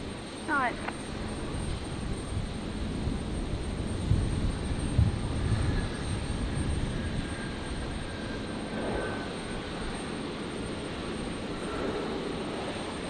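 A Bombardier Global 6000 business jet touches down at Brisbane International Airport at night after a 9.5-hour flight, its distant engine roar steady and broadband while radio chatter and voices come and go over it.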